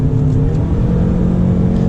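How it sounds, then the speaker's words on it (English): A 2022 Ford Maverick Lariat Hybrid with a CVT drones steadily at full power, a continuous low engine and road rumble heard from inside the cabin with no breaks. "there's the CVT on full power again"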